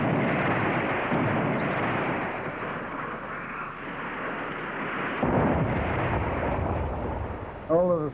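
Sustained deep roar and rumble of nineteen mine charges detonated beneath the Western Front at dawn in June 1917, loud and continuous, rolling on with a heavier surge partway through.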